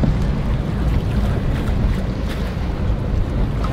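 A private luxury cruise ship passing on open water, with steady wind buffeting and a continuous wash of waves and hull noise, loud and close throughout without any talk.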